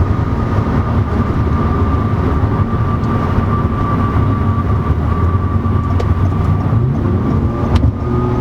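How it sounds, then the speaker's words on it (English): A stock 2020 Toyota Camry TRD with the 3.5-litre V6 runs with a steady, deep engine drone and a faint whine on top, continuous and fairly loud throughout, with no talking. "I mean, listen to that. For a stock V6, that sounds really good."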